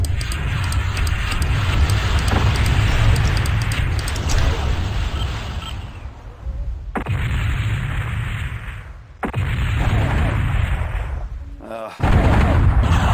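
Chain-fired clan laser weapons in the MechWarrior 2 video game rattle off as a loud, dense burst of repeated shots and booms. The barrage runs for about six seconds, then returns in several sharp bursts separated by brief gaps.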